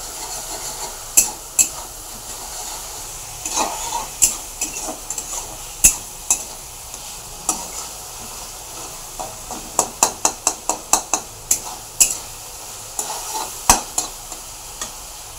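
Tomato masala sautés in oil in a pan under a soft background sizzle, with a spoon scraping and clinking against the metal in irregular strokes that bunch into a rapid run of taps near the end.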